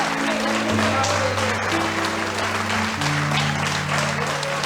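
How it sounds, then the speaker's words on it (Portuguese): Church congregation clapping for the name of Jesus, steady applause filling the room under sustained organ or keyboard chords. "Se você pode, aplauda o nome santo de Jesus."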